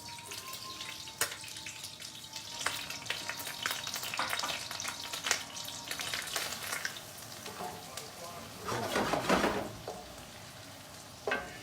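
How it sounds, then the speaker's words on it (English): Chopped shallot sizzling in melted butter in a pan, a steady close frying hiss with stirring scrapes and clinks, swelling into a louder burst near the end. "now the butter, it's almost melted down. And let's put the shallot."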